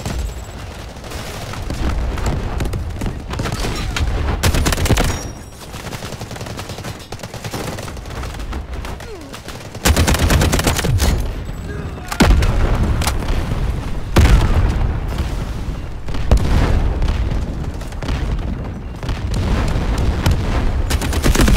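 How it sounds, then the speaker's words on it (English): Artillery fire booms repeatedly in the Delta Force: Hawk Ops video game, heavy close blasts and rolling gunfire stacking into a loud, continuous barrage. "Incoming artillery, destroy the enemy."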